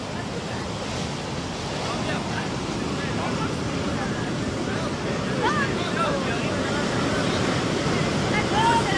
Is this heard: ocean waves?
yes